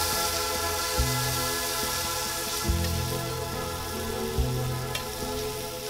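Squid bodies sear on a very hot grill, giving a steady broadband sizzle throughout, with low thumps and clatter from handling at intervals and no talk.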